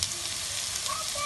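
Chopped onions for an egg korma softening in a covered pan, giving a steady, even sizzle and hiss close by with no voices.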